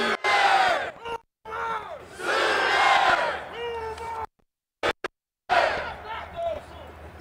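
A large outdoor crowd cheers and chants in loud rhythmic bursts at the Bob Stoops statue unveiling ceremony, with a few brief silent gaps between the shouted waves near the end.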